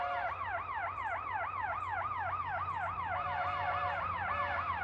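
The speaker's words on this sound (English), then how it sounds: "That's the weirdest police siren I've ever heard." A police siren wails in a fast, repeating up-and-down sweep, steady and moderately distant, with a low rumble of traffic underneath.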